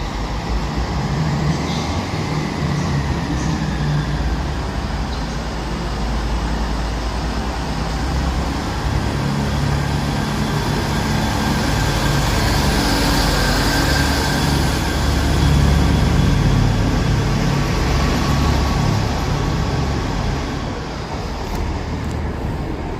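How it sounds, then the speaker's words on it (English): A Chiltern Railways class 165 diesel train departing Birmingham Snow Hill station rumbles loudly and steadily close by, engine drone rising as it pulls away, with a faint whine and brake squeal at first. "Now departing is going to be the 1511 Chiltern Railway service to Leamington Spa"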